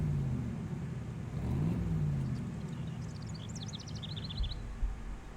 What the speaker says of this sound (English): That sounds like Edgeworth's sports car.